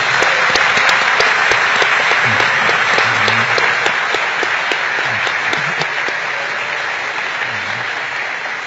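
Loud, sustained applause from a large audience at a Spanish-language church talk, a dense steady roar of clapping that fades slightly toward the end, with no voices over it.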